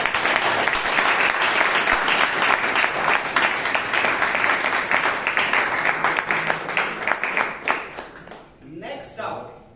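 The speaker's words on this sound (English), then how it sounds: "let's begin the first meeting of the year 2025 at the Bangalore Toastmasters Club with a thunderous round of applause" Thunderous applause from a Toastmasters club meeting audience, loud and dense clapping that holds for several seconds, then thins to scattered claps and dies away, with a voice beginning at the end.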